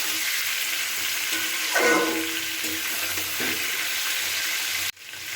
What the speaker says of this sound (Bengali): মিক্সির বাটিটা ধুয়ে আমি একটুখানি জল দিয়ে দিলাম।